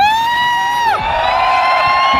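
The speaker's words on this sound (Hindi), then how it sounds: "सीटियां बज सकती हैं और चीख सकते हैं हम" A long, loud whistle from an audience at a corporate training event slides down in pitch, then gives way to a sustained, brighter whistle over a busy crowd bed.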